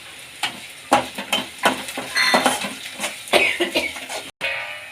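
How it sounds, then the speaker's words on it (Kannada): Stirring in a pan with turmeric and coriander leaves: sharp scrapes and clinks of a spatula against metal come in quick irregular strokes over a soft sizzle, close and fairly loud, with a brief drop to silence near the end. "ಚೆನ್ನಾಗಿ ಫ್ರೈ ಮಾಡ್ಕೊಳ್ಳೋಣ."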